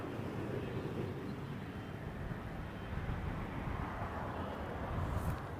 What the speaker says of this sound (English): Cessna citation latitude